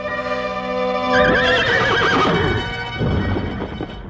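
A horse whinnies loudly, rising and wavering, with clopping hooves running underneath, staged as a sound effect in a Hindi radio drama about a rider arriving on horseback on a dark night; no voices.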